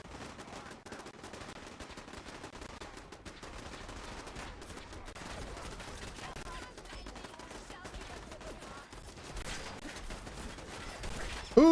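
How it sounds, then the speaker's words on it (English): Gunfire from super mutants in the video game Fallout 4, a dense, continuous crackle of distant rapid shots running throughout, with a louder sound at the very end. "So that thing is being shot by super mutants."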